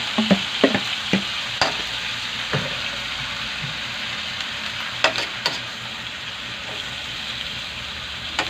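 Mixed cabbage, carrots, cauliflower and beans stir-fry in a hot pan, giving a constant sizzle punctuated by sharp scraping clacks of the spatula, close and busy, with no talking.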